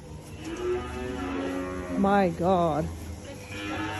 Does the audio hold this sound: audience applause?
no